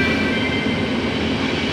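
Passenger train wagons in Czechia, heard as a steady, loud, close rumble of rolling rail cars with a continuous hum and no talking.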